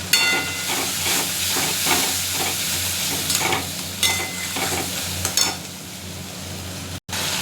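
Ginger paste frying in hot fish oil for a fish-oil vegetable curry, a steady loud sizzle with repeated scraping stir strokes, fairly close, with no talking.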